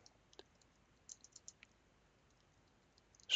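Faint, sparse keystrokes on a computer keyboard, a few scattered clicks and a short quick burst, heard close in a quiet room with no talk.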